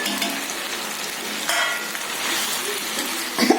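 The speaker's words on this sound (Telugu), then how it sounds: "ఇప్పుడు మనం చికెన్ మొత్తం ప్రిపేర్ చేసుకుని మొత్తం వేసేసుకుందాం." Chicken pieces sizzle and fry in a hot pan for chilli chicken, a loud, steady crackle with stirring scrapes and a brief clink near the end.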